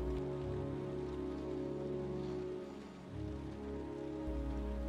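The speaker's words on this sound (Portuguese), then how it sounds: "E continua chovendo, é claro" Steady, even rainfall pattering on a surface in the video game Heavy Rain Remastered, with a low hum running beneath it and no voices.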